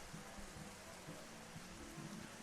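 Rain falls during a rain delay at a high school baseball game, a faint, even hiss of steady rainfall with a low rumble beneath, with no voices.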